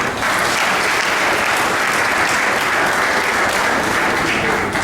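A crowd claps loudly and continuously, a dense wash of applause that holds steady from start to finish.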